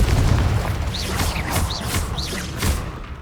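Confringo blast spell exploding in Hogwarts Legacy, several booming bursts with whooshing fiery streaks and rumbling impacts layered over loud combat noise, fading into a final thud.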